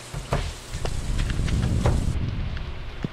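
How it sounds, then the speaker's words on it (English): Steady rain in the Stardew Valley farming game, a continuous soft hiss of falling rain with a few faint splashy ticks, close and even throughout. "It's a Saturday, it's raining, why not?"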